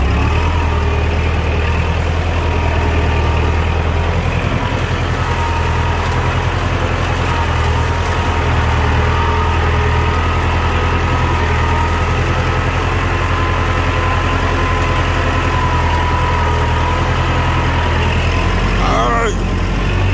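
A tractor drawing a disc plough through clay soil drones steadily and loudly at close range, its low engine note constant throughout while someone talks over it.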